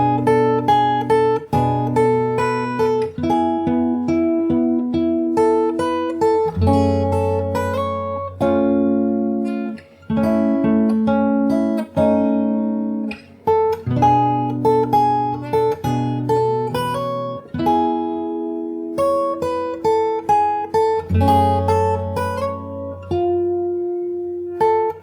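Fingerstyle acoustic guitar plays the bridge of a song, with plucked chords and melody notes ringing close and clear in a slow, steady rhythm and no voice over it.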